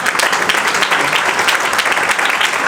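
An audience applauds at a church service, a dense, steady burst of clapping that carries on loudly from start to finish.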